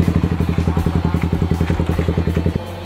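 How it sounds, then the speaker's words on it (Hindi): A motorcycle engine runs close by with a loud, fast, even chugging thump that cuts off sharply near the end. "अभी जब बाइक चलाओगी तो पहले गियर में चलाना"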